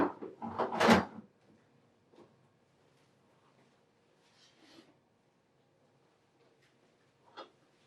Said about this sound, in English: Reinstall the waste bin and the drip tray inside the unit and close the door.